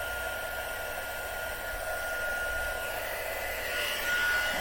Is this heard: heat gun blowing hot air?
yes